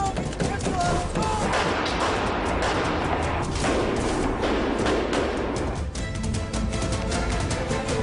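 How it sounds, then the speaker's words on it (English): Rapid gunfire at a police cadet training exercise, dense overlapping shots crackling continuously at close range, mixed with shouting voices. "We're getting shot at."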